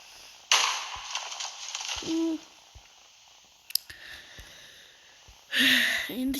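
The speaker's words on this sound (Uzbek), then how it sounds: "Bitta tantada ham portlaydi." TNT blows up blocks in a block-building video game: a sharp blast bursts out early and then fades, short clicks and pops follow, and a second loud burst hits near the end.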